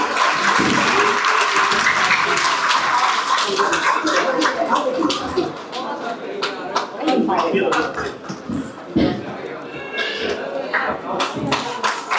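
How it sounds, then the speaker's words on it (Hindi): An audience claps to welcome a guest onto the stage at a Ningol Chakouba celebration in Delhi, with dense, rippling applause that thins toward the end, mixed with crowd chatter. "तालियों के साथ स्वागत करें।"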